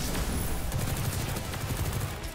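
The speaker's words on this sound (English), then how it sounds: "the machine gun that I'm using" Rapid bursts from a machine gun in Destiny, a dense, fairly quiet rattle of shots lasting a couple of seconds.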